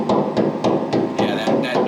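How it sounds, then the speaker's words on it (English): Repeated hammer-like taps on a steel diesel fuel tank panel aboard a trawler, each strike ringing with a hollow, drum-like resonance; about seven loud, close knocks in a steady rhythm, with no talking. "That drum sound right there means there's a lot of resonance in that panel"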